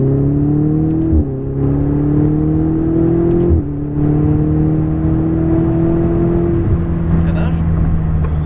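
A Ferrari 488 on a wet racing circuit, heard loudly from inside as the engine climbs through the gears in repeated rising pulls with short drops at each shift, while a person talks over it.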